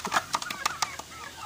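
A Basilan chicken of about four kilos and nearly a year old clucks while eating, giving a quick series of short, sharp clucks nearby that then fade to quiet.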